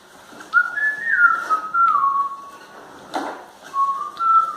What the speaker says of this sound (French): Il commence à siffler.